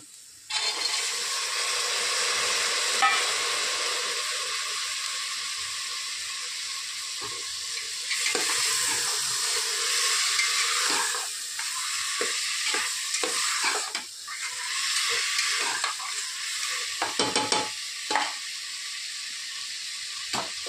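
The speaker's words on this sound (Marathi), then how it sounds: "आता टाकत आहोत काळा घेवडा" Black hyacinth beans dropped into a hot pan and stirred, a steady loud sizzle with bursts of crackling and scraping stirs, close throughout.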